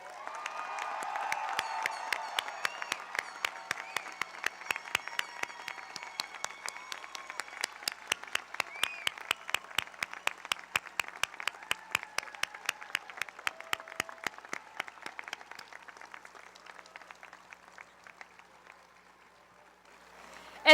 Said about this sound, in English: Let's give all of our new graduates a rousing round of applause.